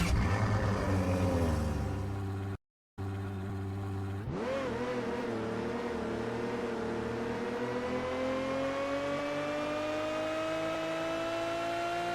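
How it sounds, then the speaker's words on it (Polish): A car engine in the video game Roblox Jailbreak revs up after a brief dropout, then holds a steady, rising whine that climbs gradually in pitch, loud and close with no talking. "dźwięk silnika w przeciwieństwie do Parisiana jest naprawdę bardzo fajny"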